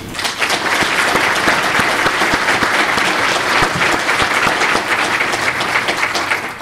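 A live audience applauds two invited guests at a French public talk, a dense, steady clapping crowd filling the room for several seconds with no voices on top.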